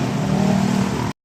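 A jeepney engine revving hard, loud and close, a steady roaring drone held for about a second before cutting off abruptly.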